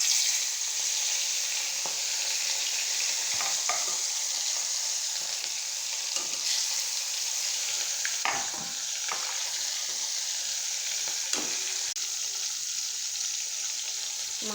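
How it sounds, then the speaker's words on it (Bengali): Snakehead fish pieces sizzle and fry in smoking-hot oil, a dense steady crackle throughout with occasional sharper pops and faint stirring or handling clicks. "এখন এক এক করে এর মধ্যে মাছ দিয়ে দেব।"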